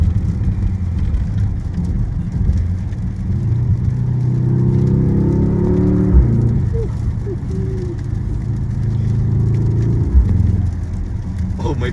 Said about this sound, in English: I just need you guys to hear the car.